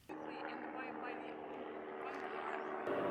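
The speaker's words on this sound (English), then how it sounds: "I wish I could just get rid of this plane and the noisy motor sound" An airplane drones overhead above Stanley Park in Vancouver, a steady engine hum filling the short stretch from start to finish and swelling slightly at the end.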